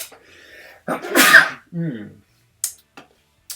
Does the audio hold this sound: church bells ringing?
no